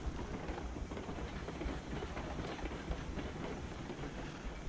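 A locomotive running in the Railroads Online video game, a steady rolling rumble with clickety-clack wheel rhythm on rails, continuous and fairly close, with no talk over it.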